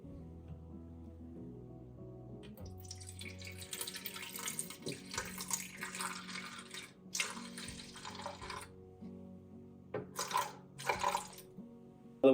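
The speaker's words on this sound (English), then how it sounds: "we're gonna remove the water, but dump the water that's in the tank" Water poured out of the tank of a De'Longhi Dinamica espresso machine into a sink, a steady splashing stream with a few brief bursts and drips, close by with no talk.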